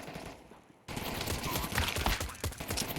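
Rapid pistol gunfire during a Counter-Strike match on the Anubis map, a quiet opening giving way to a dense, loud run of overlapping shots and impacts filling the rest of the moment.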